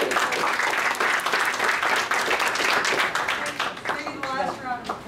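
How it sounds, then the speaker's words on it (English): Applause breaks out at a Queens borough board meeting, a room full of people clapping loudly and steadily, then thinning out toward the end as a voice starts to speak. "Maybe the last round of applause you get here."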